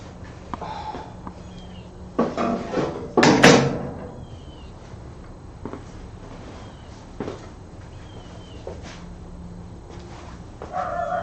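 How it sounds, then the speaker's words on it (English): A dog indoors lets out a short, close burst of barks and yips right after a knock-like thump, then the room settles into a low steady hum with only faint scattered noises. "And the dog thought that was me knocking on my door."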